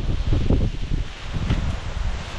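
Strong wind gusts through leaves, a steady rustling roar with rising and falling bursts, close to the microphone.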